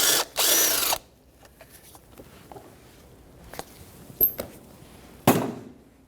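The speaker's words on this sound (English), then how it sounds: "I'm going to get a 10mm socket, put it on there, and remove it." A ratcheting socket wrench clicks in short bursts while removing a 10mm bolt from the engine cover of a Jeep Renegade, with a few sharp whirring bursts and faint handling knocks between them.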